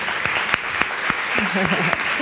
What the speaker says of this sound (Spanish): Un aplauso a nuestra compañera.